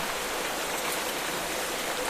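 Steady hissing rain in the Minecraft video game, a soft even patter with no breaks and no talking.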